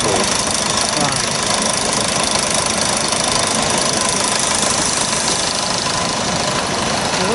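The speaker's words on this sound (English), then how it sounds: "This is a model traction engine." A model traction engine runs at a show of old farm machinery, giving a loud, steady, knocking mechanical chug without a break, with people talking over it.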